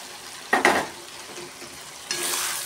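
Chopped green chillies and capsicum tumble into a pan of vegetables frying with potato, giving two sharp bursts of stirring, then a steady, fairly loud sizzle rises and holds near the end.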